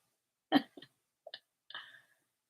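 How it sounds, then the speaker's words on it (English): A few hiccups in a quiet indoor room: one stronger hiccup, then three smaller, spaced gulping catches over about two seconds, close and fairly soft with no talk. "Now I have the hiccups."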